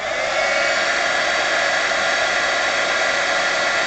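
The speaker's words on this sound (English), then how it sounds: "Then I'm going to take my heat gun again." A heat gun blows hot air over fiber paste texture in a steady, loud whooshing hiss with no breaks, near and alone.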